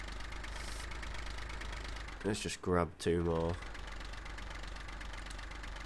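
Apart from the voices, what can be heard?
diesel tractor engine idling in Farming Simulator 15 video game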